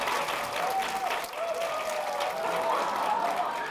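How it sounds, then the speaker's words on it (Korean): A lecture-hall audience at a Korea University special talk applauds steadily, a dense, even wash of many hands clapping throughout. "박수."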